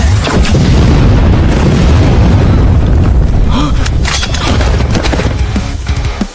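Loud continuous barrage of gunfire and booming explosions in a battle sound effect, dense rumbling blasts with scattered sharp pops, close and heavy throughout before tapering slightly at the end.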